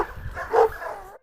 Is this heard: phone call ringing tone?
no